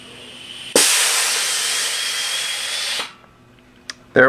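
A carbonation chamber holding apple juice blows off pressure in one loud, hissing rush of gas that lasts a couple of seconds, then cuts off, followed by a few brief clicks.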